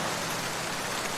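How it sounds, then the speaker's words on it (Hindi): Light, steady drizzle falls without pause, a soft broadband hiss of raindrops spread evenly through the short stretch, with no voices or thunder. "बारिश धीमी हुई। अब सिर्फ रिमझिम रिमझिम बारिश हो रही थी।"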